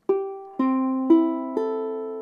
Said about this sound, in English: So if this ukulele had the tuning of the other ukulele, it would sound like this.